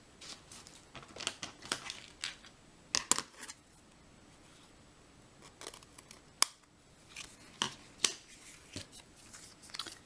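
Scissors trim craft paper in a series of crisp, close snips, some in quick clusters and others spaced apart, with soft paper rustles between the cuts in a quiet room.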